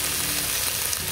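Fish, apparently catfish, frying in a hot pan, giving a steady, dense sizzle and crackle that stays close and even throughout with no talking.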